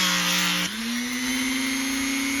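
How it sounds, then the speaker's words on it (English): A Dremel rotary tool spins a small sanding drum with a steady high-pitched whine that dips and settles into a slightly different pitch as it meets the part, loud and continuous with no talking. "I can stick it on the Dremel like this and spin it around and sand it"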